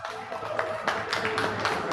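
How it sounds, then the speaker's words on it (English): Award recipients receive a round of applause from the audience at an awards ceremony, with dense, sustained clapping that rises in bursts and stays close and steady throughout. "let's give them a round of applause"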